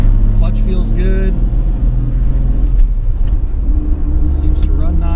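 A 1967 Plymouth Valiant 100 with a three-on-the-tree manual gearbox, its engine idling in a steady low rumble close by, while a person talks over it.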